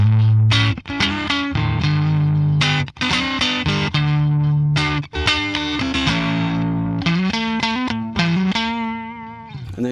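Distorted electric guitar chords from a Fender Mexico Classic Series guitar through a distortion pedal, guitar volume turned down, ring out loud and sustained, with a few brief dropouts between strums and a chorus-like shimmer.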